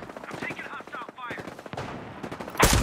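Gunfire in a Ghost Recon Breakpoint PvP match comes in rapid bursts of shots at moderate distance, with a sharper, louder burst at the end and a voice faintly mixed in.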